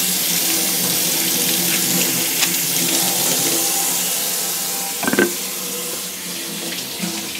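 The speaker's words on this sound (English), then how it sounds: "So we're gonna wash our Karelas here," Tap water runs steadily into a sink while karelas (bitter melon) are washed by hand in a home kitchen, a continuous close hiss of flowing water with a few splashes and clunks partway through.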